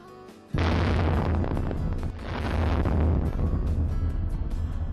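A test blast goes off against a building protected with Line-X coating, hitting with a sudden loud boom, then a long roaring rumble of debris and a second surge of noise that carries on to the end.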